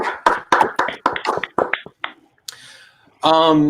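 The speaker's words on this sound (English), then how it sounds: "Give you a little hand clap." A quick run of sharp claps and taps, close and uneven, followed by a brief rustle and a burst of voice.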